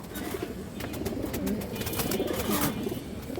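Pigeons, including Danish and new order hens, coo in low, throaty bursts at a bird market stall, several birds overlapping close by amid faint background bustle.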